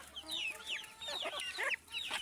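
Chickens squawk and cluck agitatedly at close range, short overlapping calls in quick bursts, like a scuffle among hens.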